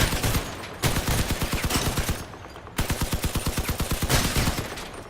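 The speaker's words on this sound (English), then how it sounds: "So to eliminate them, you can actually shoot right here. Aim at the machine guns" Weapons firing in the vehicle combat game Crossout, two long bursts of rapid, loud machine-gun fire separated by a brief pause, dense and close, with no speech.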